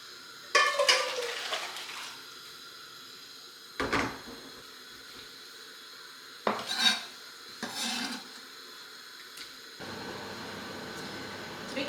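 Metal pots clank and scrape as they are handled and swapped on a stove while water boils for naturally dyeing Easter eggs, several separate knocks over a low steady kitchen background, no talk.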